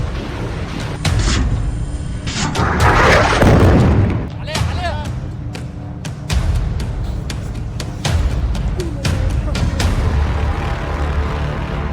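War footage of Israeli strikes: heavy explosions and artillery fire, with a big rumbling blast early on followed by repeated sharp bangs and booms over a loud, continuous background.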